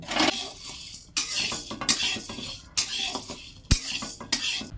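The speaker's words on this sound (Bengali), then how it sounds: "আমি এখানে 100 গ্রাম ছোলার ডাল নিয়েছি, শুকনো খোলায় ভেজে নেব" Chana dal dry-roasting in a pan while being stirred and scraped with a metal spoon, giving repeated bursts of rattling, scraping clatter with short pauses between strokes.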